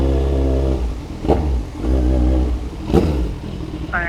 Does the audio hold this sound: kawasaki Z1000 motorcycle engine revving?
yes